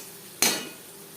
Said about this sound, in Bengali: লবণ, হলুদ ও মশলা আলুর সাথে বেশ ভালো করে মিক্সড করে দেবো।